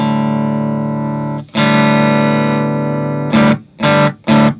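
An electric guitar played through a 65Amps fuzz pedal: a sustained distorted chord rings out, cuts, is struck again and held, then three short choppy stabs, loud and alone with no talking.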